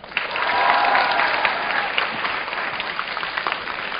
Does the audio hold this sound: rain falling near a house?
no